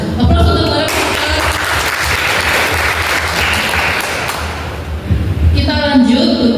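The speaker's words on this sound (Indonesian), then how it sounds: "Aplaus untuk para peserta" Audience applause for contestants at a quiz competition final in West Sumatra, loud sustained clapping filling several seconds, with a voice speaking at the start and again as the clapping fades.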